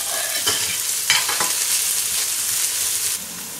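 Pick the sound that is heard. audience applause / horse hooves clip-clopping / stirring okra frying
stirring okra frying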